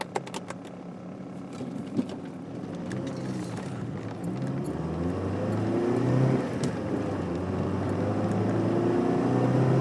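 A 1997 Saturn SL2 cruising on a freeway, its engine and road noise a steady low drone that gradually grows louder as the car picks up speed, with no talk.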